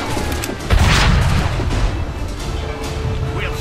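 Cannon fire in the video game Assassin's Creed 3 during a battle: loud, dense booming with a heavier blast near the start, rolling on continuously over a constant din of combat.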